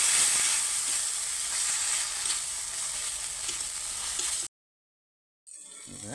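Spice paste of ground green chillies mixed with a little water and frying in a pan for a paneer and lentil dish, a steady close sizzle with stirring scrapes that cuts out briefly, then resumes.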